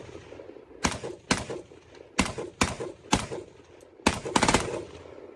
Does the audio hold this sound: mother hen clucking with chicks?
no